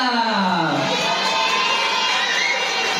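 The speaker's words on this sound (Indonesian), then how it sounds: "tepuk tangan untuk peserta nomor 6" A crowd cheers and shouts for a contestant at a live religious-text memorisation competition, a loud sustained swell of high voices with children shouting and no clear clapping rhythm.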